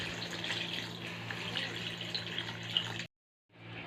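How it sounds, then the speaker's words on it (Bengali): Water poured into a pan of Bengali live fish curry, jhol, after the spices have been fried; a faint steady splashing trickle that stops abruptly, then briefly resumes. "এবার জল দিয়ে দেবো।"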